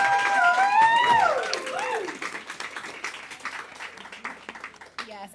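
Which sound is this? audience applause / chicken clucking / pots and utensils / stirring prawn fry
audience applause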